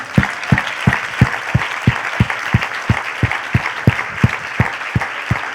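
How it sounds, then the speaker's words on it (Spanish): A church congregation claps in a slow, steady unison rhythm, about three claps every second, fairly loud and close, with a faint murmur of voices beneath. "dale un aplauso a Dios"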